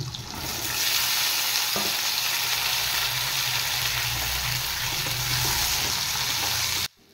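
Chopped onion, eggplant and flat beans dropped together into hot oil fry with a loud, steady sizzle and a few stirring knocks, then cut off abruptly at the end.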